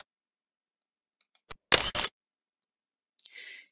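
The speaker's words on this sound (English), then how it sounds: "You will hear an audible photo capture sound when the image is taken." Photo capture sound from Endobase endoscopy software, a short electronic shutter-like click burst followed by a brief softer tail, alone in near silence.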